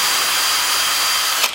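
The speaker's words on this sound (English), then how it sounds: "come in with a drill bit, put it in a vise, and just give it a little ream" A power drill spins a drill bit to ream paint out of a hole in a part held in a vise during a Rotax 912S engine installation on a Zenith CH750 aircraft, giving a steady close whine.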